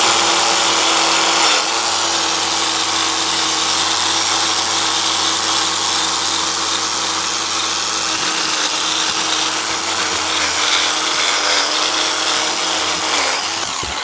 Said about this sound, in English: Okay, we're taking the wire wheel to it.